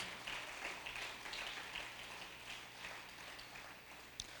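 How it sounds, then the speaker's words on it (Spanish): Church congregation giving applause to God during a Spanish-language sermon, a faint, distant, steady patter of many hands clapping that fades slightly toward the end, with a single sharper knock near the close. "Denle un aplauso a Dios."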